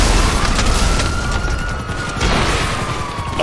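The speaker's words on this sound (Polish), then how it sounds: "Widzicie teraz dobrze te wybuchy chyba" Rockets exploding in the online shooter GTA Online, a dense roar of overlapping booms and blasts with a continuous whining tone running beneath, loud and busy throughout.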